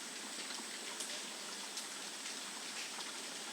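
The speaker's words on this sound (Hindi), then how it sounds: "बारिश बहुत तेज़ हो रही है" Heavy monsoon-style rain pours steadily, a dense continuous hiss with occasional louder drops and no voices, filling the scene evenly at a moderate level.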